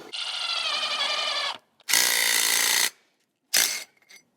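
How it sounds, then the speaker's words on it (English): Wheel studs being driven into a car hub with a power tool, three loud close bursts of whirring, hammering mechanical noise separated by short silences, the last one brief. "And now I just need to drive these into position properly."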